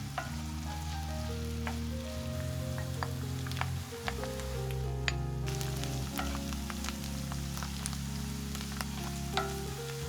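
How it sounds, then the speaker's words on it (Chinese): Minced ginger, shiitake and wood ear mushrooms stir-frying in hot vegetable oil, a dense continuous sizzle with frequent spatula clicks and scrapes against the wok, loud and close, no voices. "热锅里倒入蔬菜油，先煸炒姜末，炒香后再加入香菇和木耳一起煸炒"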